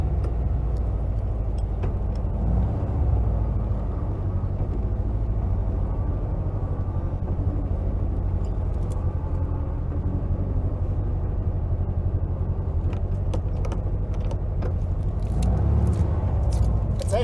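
A 1956 VW Beetle with a swapped engine drives along, its low air-cooled rumble steady and close beneath road noise, with occasional small clicks and knocks and no talk.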